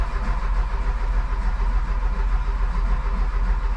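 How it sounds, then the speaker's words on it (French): A 1986 Renault Espace carburetted engine running on ethanol after a cold winter start without choke, rumbling steadily and loudly up close with a continuous low throb and no talk. "c'est un petit démarrage à froid pour vous montrer déjà comment ça démarre à l'éthanol en hiver, sans starter, avec une prépa"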